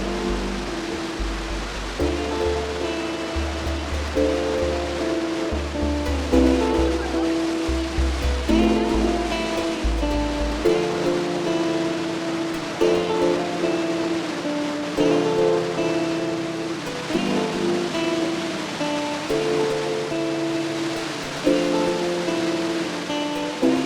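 Devil's Throat, the largest drop of the Iguazu Falls in Argentina, roars as a constant, dense wash of falling water, loud and close, alongside a low droning hum that shifts in pitch.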